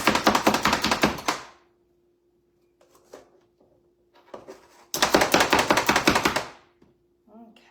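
Knife chopping onions on a cutting board, two bursts of rapid, close, loud chopping strokes separated by quieter pauses with light clatter and a brief spoken word.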